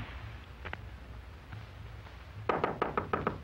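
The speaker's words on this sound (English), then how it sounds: "Then came a knock." A knock sounds on an office door in an old radio mystery, a quick series of firm raps near the end, preceded by a few faint taps over quiet background hum.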